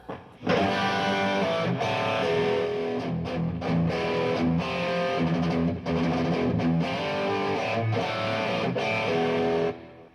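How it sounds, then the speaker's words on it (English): Chunky distorted electric guitar chugs through a driving heavy rhythm riff with short palm-muted stops, loud and close, with no talking. "And then we have some basic heavy rhythm sounds"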